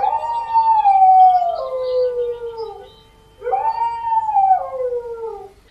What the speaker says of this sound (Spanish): el perro comenzó a aullar lastimeramente